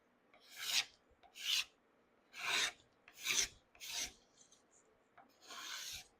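A hand scraper shaves wood from a guitar neck in six quiet, close, rasping strokes, each lasting about half a second, at an unhurried, slightly uneven pace.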